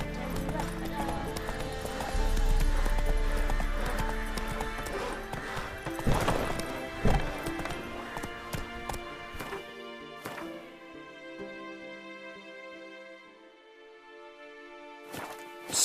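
Roach, the horse in The Witcher 3, gallops with rapid, rhythmic hoofbeats and an occasional neigh, over layered in-game music and ambience that thin out toward the end.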